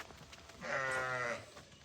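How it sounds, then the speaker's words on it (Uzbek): Adult sheep, older four- and six-tooth animals rather than lambs, at a livestock sale give a single clear bleat lasting about three-quarters of a second, standing out alone against a quiet background. "lekin qo'y bular, qo'zichoq emas, qo'y"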